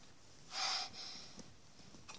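A single sharp, breathy sneeze bursts out fairly close in an otherwise quiet indoor space, followed by a softer breath and a faint sniff.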